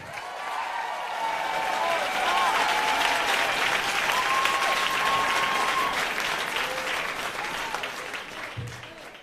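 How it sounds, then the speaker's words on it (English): Audience clapping and cheering to welcome a guest at a comedy show, a sustained wave of applause swelling to a peak then tapering off, with whoops and crowd voices mixed in. "Put your hands together for Connie Britton."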